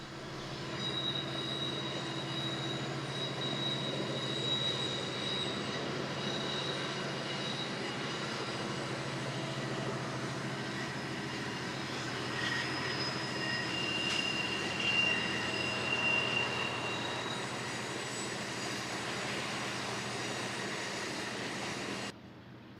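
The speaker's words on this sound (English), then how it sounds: "In San Diego County, Amtrak's Pacific Surfliner was seen making its way up Miramar Hill." An Amtrak Pacific Surfliner passenger train climbs the steep grade of Miramar Hill in San Diego County, its steady rumble and engine drone sustained throughout, overlaid with thin, high wheel squeals from the curving track, heard from trackside without voices.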